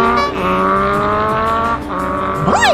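Cartoon motorbike speeding away: a loud revving engine with rising and falling tonal whines, ending in a sharp upward swoop like a skidding getaway effect.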